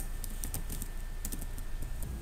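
Rapid keystrokes on a computer keyboard while entering Java code for an Android app, a steady run of light clicks and taps, close and fairly quiet, with no talking.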